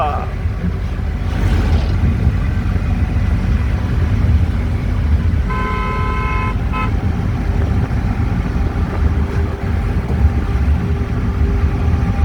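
A tractor passes on a canal-side road, heard as a loud continuous low engine rumble with a short horn toot partway through, steady from start to finish.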